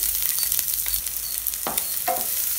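Chopped big onion hits hot oil with ginger and garlic in a pan, giving a steady close hiss of frying with a couple of brief stirring scrapes near the end, and no talking.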